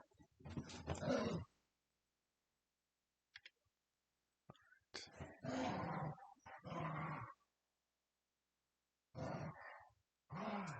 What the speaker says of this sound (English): The what you're hearing right now probably is the dogs playing.